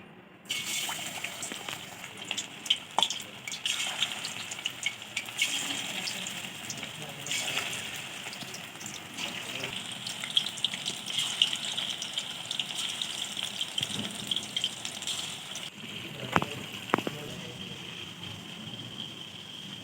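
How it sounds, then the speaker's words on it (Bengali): Marinated chicken pieces fry in hot oil in a wok for chilli chicken, giving a steady crackling sizzle with bursts and pops across the whole stretch, fairly close and loud, with no talk over it. "এবার কড়াইতে তেল গরম করে মাংসগুলো এক এক করে ভেজে নিতে হবে"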